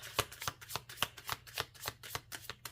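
Tarot cards shuffled in a steady, close rhythm of crisp riffling bursts, about ten in quick succession, with no voice.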